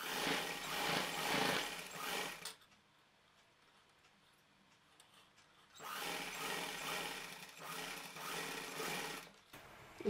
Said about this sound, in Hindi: इस तरह से ये आसन से हम सिलाई करेंगे।